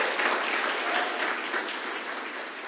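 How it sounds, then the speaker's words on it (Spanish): A church congregation gives steady, continuous applause for the creative director, a dense wash of many hands that holds evenly throughout at moderate loudness, with no talking over it. "Dale un aplauso a Sammy Reyes"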